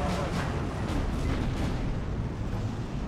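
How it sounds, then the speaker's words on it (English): Heavy tank battle in the WWII strategy game Steel Division 2: a continuous, loud wash of rumbling gunfire and artillery booms with no clear breaks. "Just a humongous tank battle."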